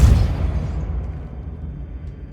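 A Depulso spell cast in the video game Hogwarts Legacy, a single loud, deep burst at the start whose rumbling tail fades away over about two seconds.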